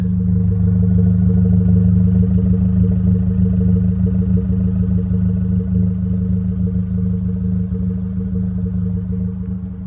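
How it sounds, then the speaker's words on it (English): A deep, steady exhaust rumble from an idling Mitsubishi Mirage engine, loud and close, holding a low throbbing drone that fades a little toward the end. "You probably heard the exhaust through that actually as well, nice and deep."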